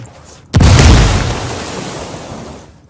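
A grenade goes off in the video game Ghost Recon Wildlands: one loud, close blast with a sharp onset, followed by a long rumbling decay that fades over about two seconds.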